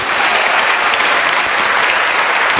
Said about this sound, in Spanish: Dale un aplauso al Señor si tú lo crees.